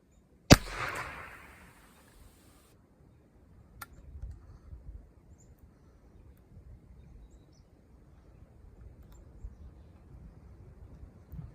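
A .45 caliber paper-cartridge black-powder gun fires outdoors in the woods after a hang fire: one sharp loud report trailing into a brief rumble, then quiet ambience with faint rustles.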